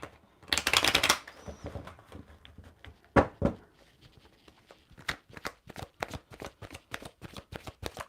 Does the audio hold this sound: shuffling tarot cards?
yes